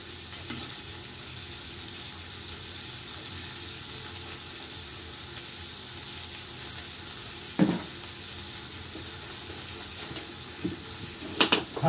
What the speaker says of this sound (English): So throw some peppers in here.